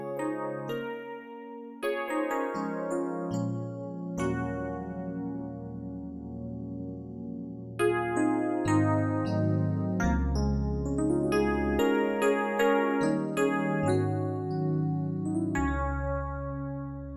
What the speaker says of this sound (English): And the next one is this Epiano and it sounds this way.